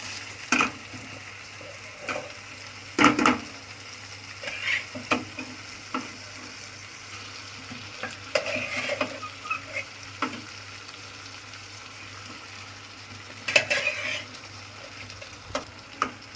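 Boiled eggplant stirred into hot spiced oil for baingan bharta, a steady sizzle broken by scraping stirs and a few sharp clinks of a spoon against the pan, up close with no talk.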